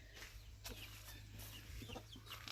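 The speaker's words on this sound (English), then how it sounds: "The little chicks over here are all super huge. The Americana, whatever they are." Chicken sounds around Americana chicks on a farm on a sunny afternoon, steady soft clucking and peeping over a constant low hum, with a few sharper calls near the middle.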